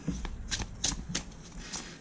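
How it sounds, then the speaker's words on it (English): Oracle cards from a herb-themed oracle deck being shuffled in a quick series of crisp riffling bursts, close and fairly loud, with no talking. "They shuffle really nicely like this."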